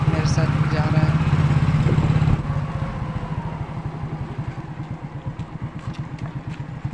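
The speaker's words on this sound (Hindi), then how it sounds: "दूसरी बाइक पे मेरे साथ जा रहा है" Motorcycle engine droning steadily while riding along a road near Durg city in the early morning, with a second bike alongside; loud and continuous, lower and rougher after the first couple of seconds, with a voice talking over it.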